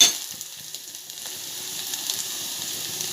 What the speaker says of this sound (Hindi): अब मैं इसमें हल्दी डालूँगी और पिसा हुआ मसाला डालूँगी